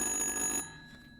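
An old rotary dial telephone rings in the video game Little Hope, a bright metallic bell trill for about half a second before it cuts off, leaving a faint hum.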